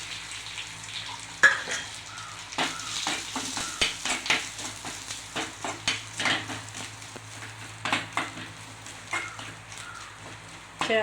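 Grated coconut and curry leaves frying in a pan for a raw banana and green gram erissery, with a steady sizzle and repeated scraping and stirring clatter at a moderate distance.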